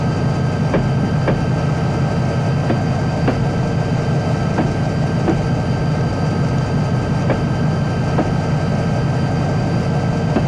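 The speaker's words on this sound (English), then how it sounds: "Bring to the train to a stop with the air brakes." Western Pacific EMD GP20 diesel locomotive in Train Simulator 2016 coming to a stop on air brakes, a steady low engine rumble with faint periodic rail clicks, heard alone.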